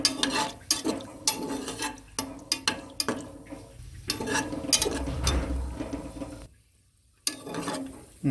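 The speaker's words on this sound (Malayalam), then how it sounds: "നമുക്ക് കശുവണ്ടി വറുത്തെടുക്കാം." Cashew nuts fry in a pan with oil for a Malabar biryani, giving close, irregular sizzling crackles and scraping stir strokes, with a brief quiet pause near the end.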